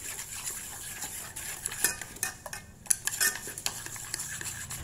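About 15 g of starch being stirred into cool water in a pot, with a spoon scraping and clinking against the metal in irregular, close strokes.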